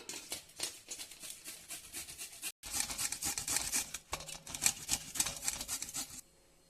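A half-boiled potato scraped across a hand grater in a home kitchen, giving steady rhythmic rasping strokes at close range with a brief pause partway through, no talking.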